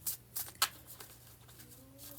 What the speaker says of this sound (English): I'm going to show you all the bridge shuffle.